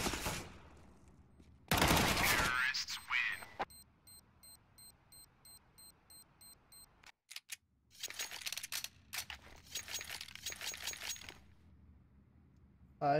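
Gunfire crackles through a video game shootout, with bursts and rapid volleys of shots at moderate distance interspersed with quieter pauses.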